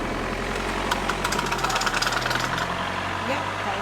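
A car engine with a fault idles close by, a steady low rumble carrying an uneven knocking pulse that stays level throughout, the mechanical clatter audible alone without talk.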